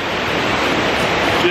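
A loud, roaring waterfall pours as a constant, dense wash of rushing water that fills everything, with no breaks.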